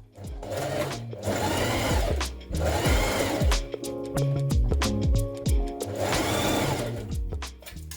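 A domestic sewing machine stitches a dress neckline in repeated bursts of fast, whirring running. The motor spins up and stops several times, with short pauses between the loud stitching runs.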